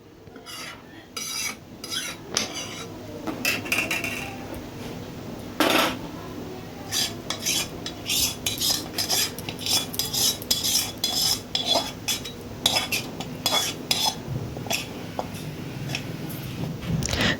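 Milk and sugar are stirred continuously in a pot while cooking sweet curd, a close, repetitive scraping and clanking of a metal spoon against the pot with steady rhythmic strokes.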